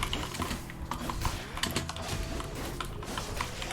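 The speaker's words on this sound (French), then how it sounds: "c'est les claviers mécaniques" Keys on a mechanical computer keyboard clatter rapidly and unevenly, close to the mic, in a continuous burst of sharp clicks over a busy background of game sound.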